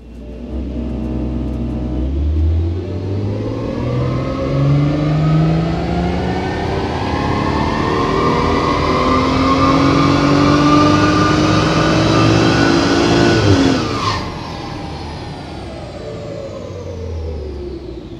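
A BMW 140i with a stage one tune and intake filter revs on a dyno in one long pull, the engine note climbing steadily and loud before cutting off sharply near the end and settling back to a lower idle.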